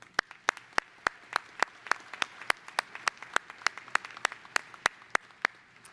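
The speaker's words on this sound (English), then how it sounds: "please give the parents, families, and friends gathered here today a round of applause" Applause at a university commencement ceremony, sharp hand claps in an even, steady rhythm throughout, fairly faint and distant in a large hall, with no talking over it.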